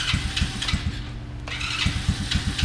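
A TaoTao 110cc Pony kids off-road go-kart engine starts up, settling into a steady, rapidly pulsing idle close by, with a brief smoother dip midway before the chugging resumes.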